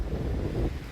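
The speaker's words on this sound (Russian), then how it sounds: "Ветер все тут разметал" Strong hurricane wind in Krasnodar Krai buffets the microphone in a brief, dull roaring gust, faint and muffled, with no talk.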